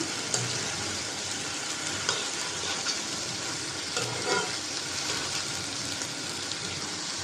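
Potatoes with dried kachki fish fry in a pan on a gas cylinder stove, giving a continuous close sizzle with occasional stirring scrapes and no talking.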